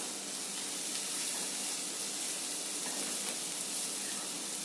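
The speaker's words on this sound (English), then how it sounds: "So the onions are sauteing and stir frying." Continuous broad hiss of onions sizzling in a hot pan, even and fairly loud throughout, with no voices.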